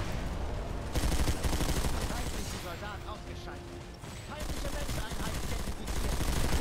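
Sniper and automatic gunfire in the online shooter Planetside 2, with dense loud bursts and volleys rattling almost continuously, easing briefly in the middle before building again.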